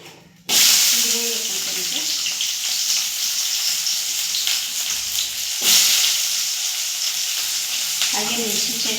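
Gold Winner oil sizzling and frying loudly in a pan for mutton gravy, a steady broadband hiss that kicks in sharply after a brief start, with short stirring scrapes and a faint voice in the background.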